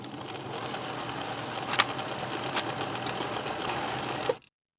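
Sewing machine stitching a knit jacket collar seam at a 3/8 inch allowance, a continuous close, steady run for about four seconds before stopping abruptly.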